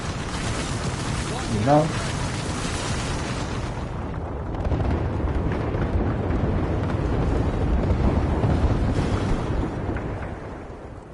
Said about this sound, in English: Watch it, airstrike.